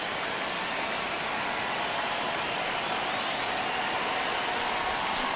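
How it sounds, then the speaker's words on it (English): Stadium crowd in the baseball video game MLB The Show 26 during a tense one-run ninth inning, a steady dense roar of cheering and noise filling the whole stretch without pause. "Crowd locked in right now."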